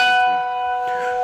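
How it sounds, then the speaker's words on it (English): A single bell rings out clear and loud, its bright ringing tone sustaining and slowly fading with no voices over it. "And thank you for the bell."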